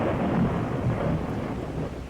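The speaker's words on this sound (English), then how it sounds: "Loud thunder echoes all around you as the storm outside intensifies." Thunder from a storm in the 1986 game Uninvited rolls and rumbles loudly and steadily, a deep continuous crash with rain-like hiss and no speech over it.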